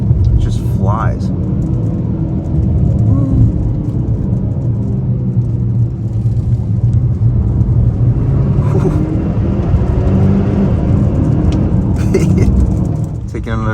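2024 Hyundai Santa Cruz Limited pickup accelerating on a test drive, a steady turbocharged engine rumble and road noise building inside the cabin, with someone talking over it.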